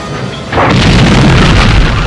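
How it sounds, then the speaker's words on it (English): A loud explosion from the 1989 Bond film Licence to Kill erupts after a brief lead-in and holds as a sustained, heavy boom with deep rumble and debris noise for the rest of the moment. "We see another explosion."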